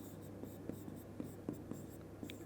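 A pen writing on paper while an acute angle is drawn for a Class 10 maths construction, giving soft, faint scratching strokes with a few light taps, close and quiet with no speech.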